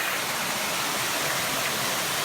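Spring Glen Buttermilk Falls in New York pours with a dense, steady hiss of falling water, a constant close wash with no breaks.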